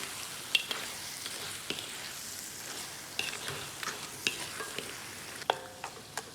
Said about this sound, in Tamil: நண்டை போட்டு ஒரு பிரட்டிடுவோம்.